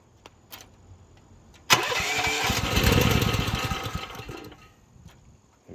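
A Chinese-made mini excavator's small engine cranks and catches, then runs at a loud, rough idle with rhythmic chugging that slowly fades, preceded by a few faint clicks.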